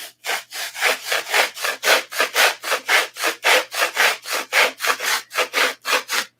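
Coarse 80 or 36 grit sandpaper worked over wood by hand, a close, steady back-and-forth rasp of about three strokes per second running the whole time with no talking.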